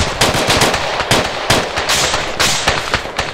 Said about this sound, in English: Alright, covering fire, boys.